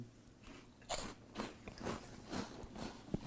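Someone crunches through Old Bay cheese curls, a series of crisp bites and chews close up, with roughly regular crunches and no talking.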